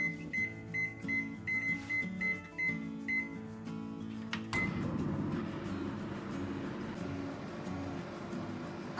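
An oven's control panel gives about a dozen short, sharp beeps in quick succession while convection mode at 180 degrees is set for a 10-minute preheat, then a low steady hum of the running oven follows.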